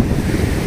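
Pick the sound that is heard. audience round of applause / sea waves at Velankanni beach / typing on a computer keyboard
sea waves at Velankanni beach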